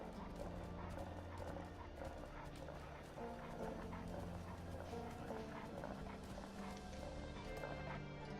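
A horse gallops in Skyrim with rapid, steady hoofbeats that continue throughout, set against busy game background sound and moderately loud.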